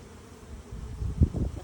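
Honey bees at an apprentice's hive, with a low droning buzz that starts quietly and swells into louder, closer pulses toward the end, with no voices present.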